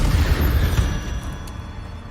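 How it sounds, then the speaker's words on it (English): An Incendio fire spell is cast in Hogwarts Legacy on PS5, opening with a heavy, booming whoosh of flame that rumbles loudly and then fades away over about a second. "Incendio!"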